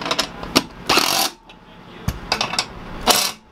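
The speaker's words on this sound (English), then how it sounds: "use your 10 mil ratchet to tighten these bolts up on the side" A 10 mm ratchet tightens bolts on a ceiling bracer inside a Sprinter van, giving close bursts of rapid metallic clicking separated by short pauses.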